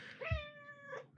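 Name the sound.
cat meowing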